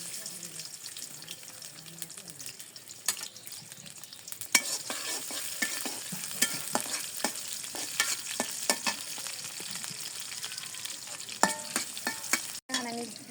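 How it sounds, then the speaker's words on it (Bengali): Potatoes fry in oil with chopped onion, giving a continuous soft sizzle punctuated by sharp clicks and scrapes of stirring, with a few faint watery sounds in the background. "তেল দিয়ে দিই, আলু ভাজবো।"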